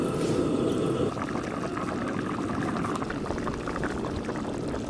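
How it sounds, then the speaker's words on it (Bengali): Chicken curry gravy with potatoes bubbling vigorously in a pot: a continuous close, dense burble and hiss of boiling liquid, steady throughout with no talking. "ঝোল কিন্তু একদম টকবকে হয়ে ফুটে গেছে"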